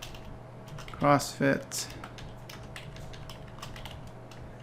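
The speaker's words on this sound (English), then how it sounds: "So I'm going to type our title" Soft, quick clicks of typing on a computer keyboard run faintly under a man's speech, close and steady.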